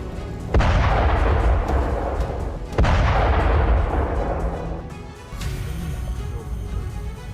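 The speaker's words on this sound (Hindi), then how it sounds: "रात के वक्त रूसी सेना की भीषण बमबारी और ताबड़तोड़ मिसाइल अटैक को साफ देखा जा सकता है" Two heavy, booming blasts a couple of seconds apart from Russian bombardment and missile strikes at night in Mykolaiv, Ukraine, each rolling into a long, thunderous rumble that lingers, followed by a softer continuing roar.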